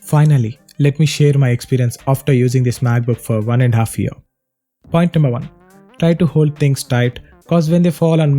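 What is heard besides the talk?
None of the usual background noises is heard.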